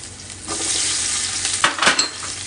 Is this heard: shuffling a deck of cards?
no